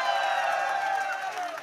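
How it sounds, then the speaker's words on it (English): A crowd at a by-election victory speech claps and cheers together in a dense, steady roar, with whoops rising above the noise throughout. "Give him another round of applause, Dave Rodney."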